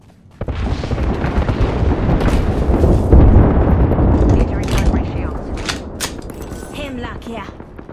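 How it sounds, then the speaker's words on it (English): Airstrike explosions in the video game Apex Legends: a sustained, loud barrage of booming blasts and rumbling impacts for several seconds, easing off toward the end with scattered sharper bangs. "There's an airstrike coming in."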